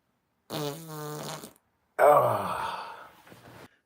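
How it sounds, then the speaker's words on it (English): Two drawn-out, buzzy farts sound up close, the first a steady vibrating tone of about a second and the second longer and rougher, trailing off after a brief pause. "Naked yoga fart."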